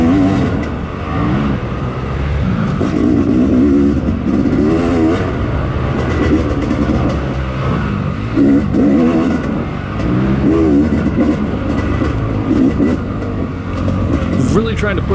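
A lightweight two-stroke dirt bike with a mangled exhaust revving through tight woodland trail, the engine rising and falling in repeated bursts, loud and close, with a rider talking over it.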